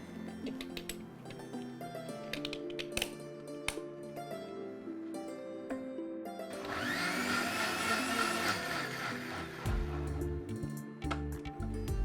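Electric blender whirring as it mixes a millet drink with ice cubes, a loud steady motor roar that starts partway through, runs for a few seconds and then cuts off, set among kitchen clatter.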